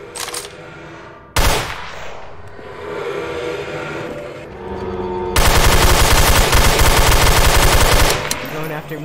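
Rapid automatic gunfire in the Garry's Mod video game: a single sharp shot early on, then a loud, sustained burst of machine-gun fire for several seconds, with no talk over it.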